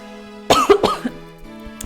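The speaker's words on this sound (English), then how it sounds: "That made me cough." A single close, sharp cough breaks into a short burst of rough throat clearing, then fades against a quiet hum.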